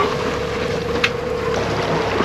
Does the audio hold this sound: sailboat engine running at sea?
yes